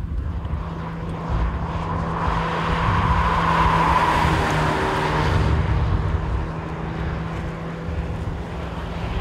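A 2017 Honda Civic Si with a manual gearbox accelerates, its engine drone heard from inside the car swelling to a louder peak midway and then easing back, with no talk over it.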